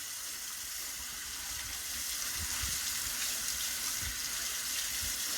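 Cool water runs steadily from a tap while a metal relic is being cleaned, a soft continuous hiss and splash with a few faint low knocks of handling underneath.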